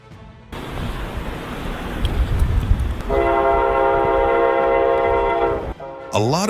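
A train rolls past loudly and close, with a steady rumbling roar. Partway through, a long, sustained horn blast joins in and then cuts off, and a second horn sounds near the end.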